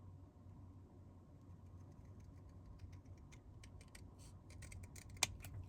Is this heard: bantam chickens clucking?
no